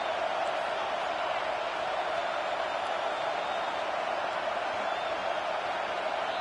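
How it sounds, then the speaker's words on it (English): A stadium crowd roars as a dense, sustained wash of noise on third down in the NCAA 25 college football video game, holding steady and loud throughout with no clear breaks. "Decibels rising as the crowd gets behind this defense on 3rd down"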